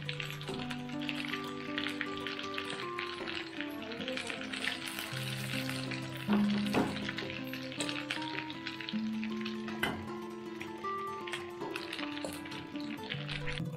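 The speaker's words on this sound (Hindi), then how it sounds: "तो अब हम इसको निकाल लेंगे और सेकंड बैच चिकन को भी करेंगे फ्राई।" Chicken pieces, a second batch, frying in hot oil with a steady sizzle throughout, light taps of a utensil now and then, and faint background music or tones running underneath.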